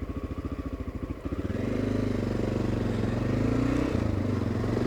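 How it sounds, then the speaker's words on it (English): A 1989 Honda NX650 motorcycle pulls away with its engine stumbling on takeoff. A lumpy, uneven idle thumps first, then the engine falters briefly and rises into a steadier drone as the throttle comes up. The sound is close and there is no talking. "See, there was that annoying stumble again there on initial takeoff."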